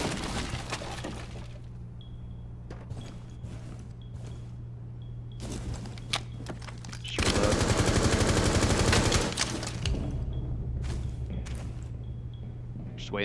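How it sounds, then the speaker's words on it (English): Gunfire in Rainbow Six Siege as shots are fired through a wall: a loud, dense automatic burst of about three seconds midway, with scattered single shots and impacts before and after over a steady game ambience. "I'm just taking some shots through the wall to see if he's in there by B."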